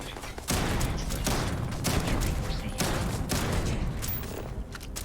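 Weapons test-fired in the Starfield video game, a sustained volley of rapid loud shots and blasts running continuously for several seconds, close and dense.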